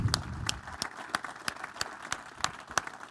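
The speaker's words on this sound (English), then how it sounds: "So please join me in giving Kathleen McGreevy a round of applause for her Paul Harris Fellow" A round of applause at a service club meeting honoring a Paul Harris Fellow recipient: a small group clapping in sparse, distinct rhythmic claps, moderately close, with a brief low murmur at the start.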